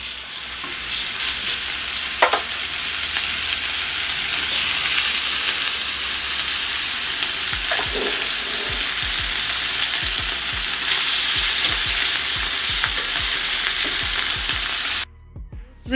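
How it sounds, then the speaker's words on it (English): Chicken sizzles and crackles steadily in a smoking-hot non-stick pan, a loud continuous frying hiss with occasional pops and taps, then cuts off abruptly. "our pan is starting to smoke, and I'm going to go down with our first piece of chicken"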